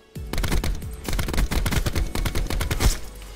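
Rapid automatic gunfire from a Call of Duty Black Ops 4 match, a dense stream of close, loud shots firing in quick succession for several seconds.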